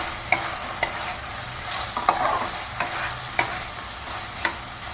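Turmeric and chilli powder fry in a pan while a spoon stirs them, giving a soft steady sizzle broken by sharp periodic scrapes and knocks against the pan, with no voices.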